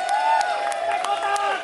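Audience at a toy fair cosplay stage show in Balai Kartini, cheering and clapping in a steady roar, with music and voices running over it.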